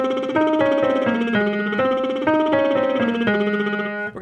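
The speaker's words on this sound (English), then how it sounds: "Lip trill to begin with sounds like this." A tenor's lip trill vocal warm-up: a steady buzzing voiced trill gliding through a repeating pattern of stepped pitches, rising and falling in even phrases, close and loud with no other sound.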